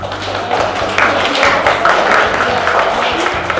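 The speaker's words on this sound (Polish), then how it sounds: "Proszę o oklaski" A crowd applauds at the opening of Kazimiera Szatkowska's art exhibition, dense steady hand clapping from a modest gathering, close and continuous for a few seconds.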